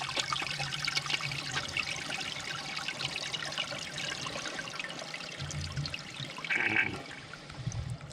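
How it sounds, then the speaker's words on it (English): Toilet flushes with rushing, swirling water and trickling, heard close in a bathroom, with a louder gurgle near the end and no talk. "You flush it, what's going to happen?"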